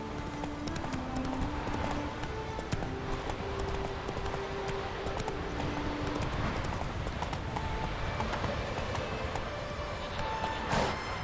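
Hooves of a galloping horse in The Witcher 3 beat in a steady, fast clip-clop rhythm that runs unbroken throughout, with faint in-game background sound beneath.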